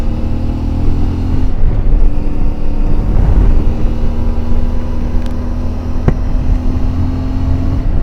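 A CFMoto 450 MT motorcycle cruising on a highway, its engine holding a loud, steady drone with a constant tone, mixed with wind rush and no talking.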